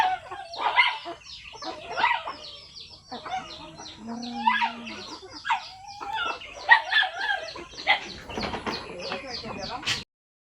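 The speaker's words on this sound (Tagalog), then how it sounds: "kadakop na si Riri guys sa manok" Chickens cluck and squawk in bursts around a yard, with voices talking over much of it and a rooster-like call mixed in.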